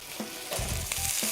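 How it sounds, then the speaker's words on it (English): Potatoes fry in a pan with a steady close sizzle, broken by a few soft rattling shakes of the pan. "Give the pan with the potatoes a shake so the potatoes fry evenly on all sides"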